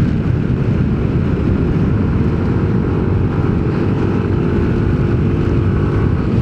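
A Yamaha Nmax 155 scooter engine drones under heavy wind rush while riding at speed, loud and constant throughout, with no talking.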